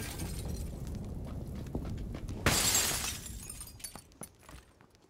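Window glass shatters in the battle game PUBG on the Miramar map, a sudden loud crash that trails off into tinkling fragments over faint game background noise.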